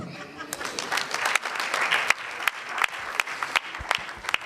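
A crowd at the NSMQ 2025 science quiz launch in Ghana applauds steadily, dense clapping throughout with some sharper individual claps standing out.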